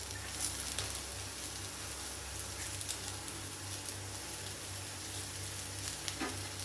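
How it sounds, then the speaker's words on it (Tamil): Onions, tamarind and curry leaves sauté in a pan for a chutney, making a quiet, continuous sizzle with a faint low hum underneath and occasional soft stirring ticks. "நான் ரெண்டு பெரிய வெங்காயம் போடுறேன் கொஞ்சம் புளி போடுறேன் நல்லா நம்ம வதக்கி எடுத்துடலாம்"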